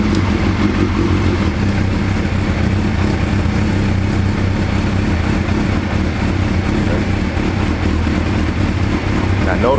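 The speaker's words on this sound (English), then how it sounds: "Once we start the bike," A motorcycle engine runs steadily at close range, a dense continuous rumble that holds at a fairly even idle throughout.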